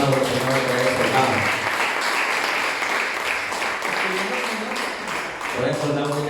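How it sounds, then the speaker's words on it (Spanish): An audience claps in a steady, dense burst beneath a voice, who talks over the start and again near the end while the applause carries on through the middle. "Un aplauso, Señor, por eso."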